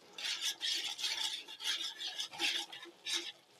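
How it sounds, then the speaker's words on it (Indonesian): A utensil stirs sauce and eggplant in a pan, producing close, rhythmic scraping strokes with a light sizzle underneath, repeating steadily without any talk. "nah sausnya ini akan saya aduk dengan terongnya teman-teman ya, supaya rata"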